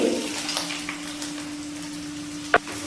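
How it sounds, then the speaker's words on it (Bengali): Whipped sour yogurt goes into a pan of frying ginger-garlic-onion paste for a cauliflower korma. A steady close sizzle runs throughout, with one sharp clatter near the end. "এবার এর মধ্যে দিয়ে দিচ্ছি ফ্যাটানো টক দই"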